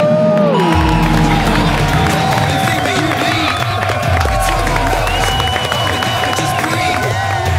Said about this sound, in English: We have a huge crowd in the audience making a hell of a lot of noise